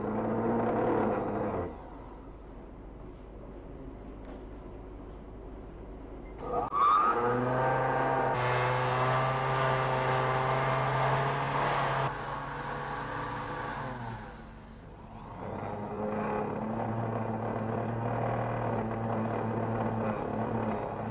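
Grinding wheel working the rough edges and lumps off hardened gemstone cabochons, a steady whirring drone with pitch and load shifting as stones are pressed on, sustained and fairly loud with brief pauses.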